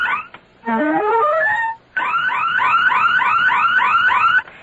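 A burglar alarm in a radio drama sounds off in loud electronic bursts, first a rising sweep, then after a brief gap a rapid repeating warble that keeps cycling steadily and close.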